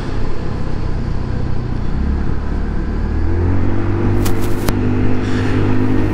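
A Lexmoto Titan 125cc urban scooter is ridden on the road, its engine droning steadily under loud wind rush, with the pitch rising slightly as it accelerates and no talking.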